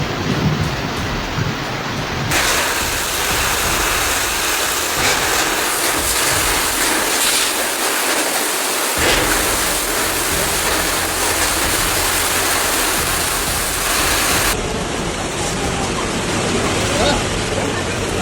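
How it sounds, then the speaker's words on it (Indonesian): Heavy rain and strong wind in a storm in Bekasi, a dense, loud, continuous roar of rain and gusts close by, steady through the whole stretch with shifting intensity. "Hujan, anginnya kenceng banget ini."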